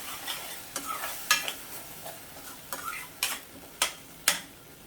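Tomatoes are sautéed in oil in a pan for a mushroom masala base. A low sizzle sits beneath a handful of sharp, irregular spatula clacks and scrapes, with no voices.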